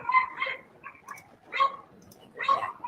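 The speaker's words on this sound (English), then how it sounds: "Sorry to hear my dogs in the background." Several dogs bark and yip in short bursts somewhere behind the room, moderately loud and intermittent, mixed with a faint talking voice.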